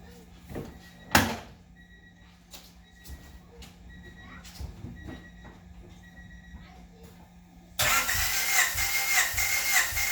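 A Honda H22A4 engine cranks over during a compression test. A quiet stretch of small clicks and handling noises gives way abruptly to a loud, steady, churning crank that runs to the end.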